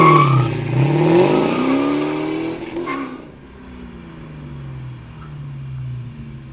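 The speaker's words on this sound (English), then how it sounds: "let's get our GT out of the shop one more time, do another blast to 60" A 1994-1998 Mustang GT with a bolt-on acceleration pack pulls hard in a 0-60 run, its engine roaring loud and rising through the gears for about three seconds, then fading to a lower, steadier drone.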